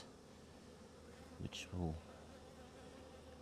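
A honey bee buzz rises briefly and close during a brood check at an apiary hive, with a short pitch-falling drone lasting about half a second over a quiet background.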